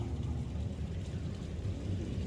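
Rain falls during an outdoor community meeting in Biak Numfor, a soft, continuous low wash of patter, faint and steady for a couple of seconds with no voices.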